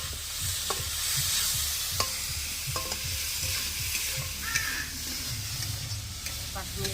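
Mutton kaliya simmers and sizzles in a pan while a spoon stirs it, with occasional knocks and scrapes over a continuous close hiss of frying.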